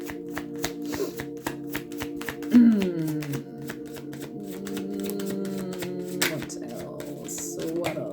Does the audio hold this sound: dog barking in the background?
no